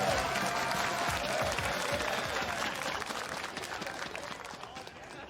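Arena crowd at an LCS Spring 2020 League of Legends esports match applauding and cheering, a dense, steady wash of clapping and voices that fades slightly toward the end, with a caster's voice faintly underneath.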